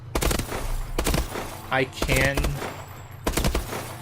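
Bursts of automatic fire from a BAL-27 rifle in Call of Duty Advanced Warfare, three loud rapid volleys separated by short pauses, with a brief voice in between.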